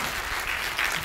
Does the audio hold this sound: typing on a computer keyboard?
no